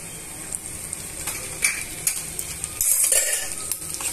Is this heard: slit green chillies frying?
yes